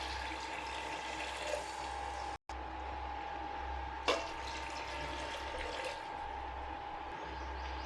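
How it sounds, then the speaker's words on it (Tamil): Water pours steadily into a cooker with sautéed mint for mint rice, a continuous rush with a brief clunk partway through and a low background hum. "நான் 1 கப்புக்கு 2 கப் தண்ணி சேர்த்துக்க போகிறேன்"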